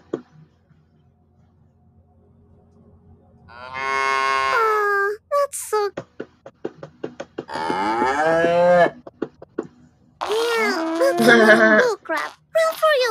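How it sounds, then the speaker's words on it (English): Cows mooing in the video game My Little Misfortune, several long, loud, drawn-out lowing calls in a row with brief gaps and clicks between them. "Hey, Miss Fortune, look, there's a bunch of cows."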